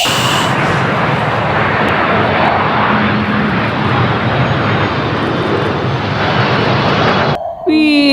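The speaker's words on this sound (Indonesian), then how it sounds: "Ini adalah pesawat tempur" A green fighter jet aircraft roars in a steady, loud, broadband rush that holds for several seconds before cutting off abruptly, followed by a brief tonal whine.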